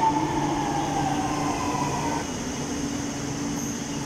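A train pulls into the station platform at Anthalloor with a steady rolling rumble and a high sustained tone that drops away midway, continuous and moderately loud with no talking.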